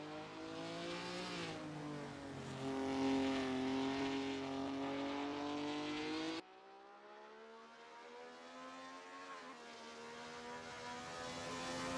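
Race car engines roar steadily in a sim racing game, simLEGENDS series at the Feldbergring: sustained high-pitched whining drones that shift pitch, cutting abruptly to a quieter, thinner engine note partway through.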